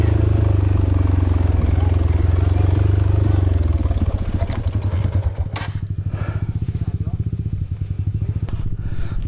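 A trail motorcycle with jetting wrong labors loudly at close range, its engine droning low and heavy before dropping into a rough, rapid, sputtering putter over a steep trail, with some clattering.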